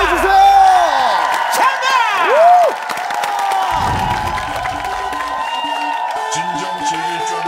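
A TV studio audience cheers, whoops and claps loudly, with excited shouts riding over a continuous crowd roar and a host's voice briefly heard.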